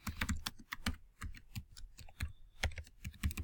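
A computer keyboard is typed on steadily and close up, with dense, irregular clicks and thumps running throughout and only brief pauses between short bursts.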